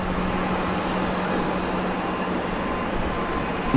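A business aircraft taxiing at Luton airport gives a steady, loud, close jet engine rumble and hiss that holds constant throughout, with no talking.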